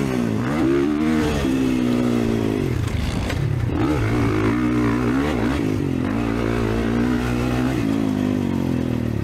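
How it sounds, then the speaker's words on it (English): A Kawasaki KX450 motocross bike runs hard around a dirt track, the engine loud and close, rising and falling in pitch as it revs through jumps and lines, with occasional clatter and no talk. "I think the Kawasaki KX450 can get me over them."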